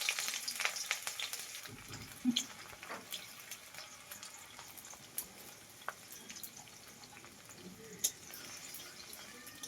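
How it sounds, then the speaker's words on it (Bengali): Chopped onion frying in hot mustard oil in a kadai gives a soft, crackling sizzle with scattered pops and light clinks, fairly quiet and close, with no speech. "পেঁয়াজটা একদম হালকা করে ভাজবো"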